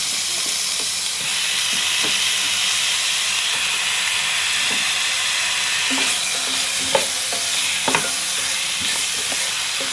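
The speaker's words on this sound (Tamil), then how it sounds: "நெஞ்சு பூண்டு வெங்காயம் எல்லாம் மிக்ஸ் ஆகி ஃபைவ் மினிட்ஸ் இதில் அப்படியே வேகட்டும்" Garlic and onion fry in a pan as the base for Nagercoil-style mutton biryani, giving a steady close sizzle and hiss throughout with a few brief scrapes of stirring near the end and no talk.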